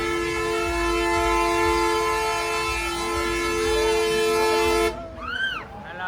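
A vehicle horn sounding during the Rath Yatra procession in Bhavnagar, one long, loud, sustained blast that cuts off abruptly, followed by a brief warbling tone over crowd noise.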